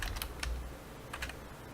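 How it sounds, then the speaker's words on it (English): Keystrokes on a computer keyboard as a username and password are entered at a login screen, a few quick clusters of clicks separated by pauses, close and clear with no talking. "if I type in a password of password"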